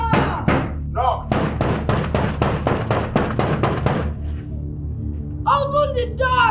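Repeated loud banging and knocking on a locked door, a rapid run of about a dozen heavy thuds in steady rhythm, close by, with shouting voices before and after.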